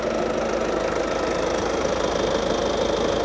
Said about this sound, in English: Engine sound is very stable and reliable.